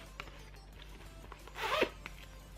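A small pencil-case pouch has its zipper pulled shut in a single quick rasping stroke, close and crisp against a quiet room with a few faint handling taps.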